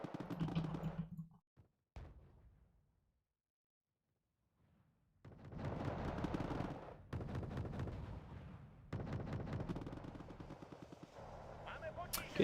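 Gunfire in the video game Wargame: Red Dragon comes in sharp bursts of rapid shots. A brief volley opens, then a near-silent pause, then several longer, loud rattling bursts separated by short gaps.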